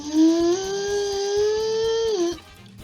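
A steady whining mechanical buzz with a rising pitch from a powered saw in Farming Simulator 22, holding for about two seconds before cutting off; a faint rhythmic pattern continues underneath.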